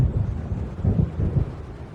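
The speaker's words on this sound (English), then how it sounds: "It seems there's a storm coming." Low rumbling thunder of an approaching storm in the video game Alan Wake Remastered, rolling in two or three swells over steady wind and rain noise.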